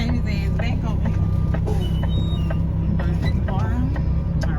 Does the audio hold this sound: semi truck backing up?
yes